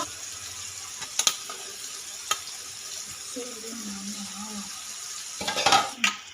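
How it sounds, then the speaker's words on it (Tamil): Cooked rice stir-fried with a mint-coriander paste in a pan for paneer fried rice: a soft steady sizzle with scraping stirs and a few sharp utensil clinks against the pan, moderately close. "உதிரியாக வடித்து வச்சுக்கிற சாதத்தை இப்போ நம்ம இந்த கலவையில் நம்ம சேர்த்துக்கலாம்."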